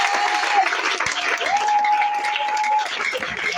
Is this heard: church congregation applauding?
yes